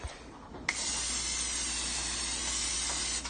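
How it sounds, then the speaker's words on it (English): A short spray bursts out with a sharp hiss, then a steady aerosol hiss continues close by for a few seconds before cutting off. "So I'm just gonna use olive oil spray."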